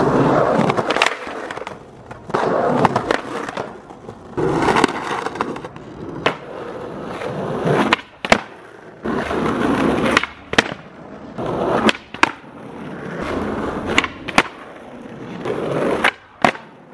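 Skateboard wheels rolling over pavement during a street skate warm-up, a steady rumbling roll broken by sharp clacks and pops of the board at regular intervals, close and fairly loud.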